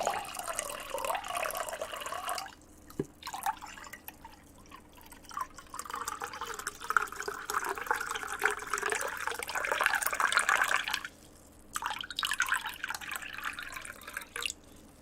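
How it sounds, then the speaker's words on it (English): Water poured into a glass for ASMR makes a long, close, steady trickle and splash, broken by two brief pauses, with no voices. "let's try pouring this water"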